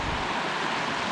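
Water of the Middle Fork of the Illinois Bayou rushes past at high flow, a steady broadband roar, close and unbroken, with no talking over it.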